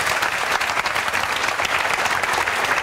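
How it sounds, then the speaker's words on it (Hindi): Loud, dense applause from a crowd at a BSF selection celebration at a coaching institute branch in Gohana, steady and continuous with no voices above it. "जोरदार ताली बजाओ"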